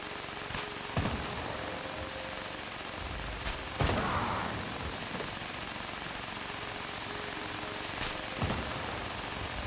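Gunfire in Fallout 76, a handful of scattered sharp shots spread over several seconds, one with a longer rumbling tail, standing out against a steady background din.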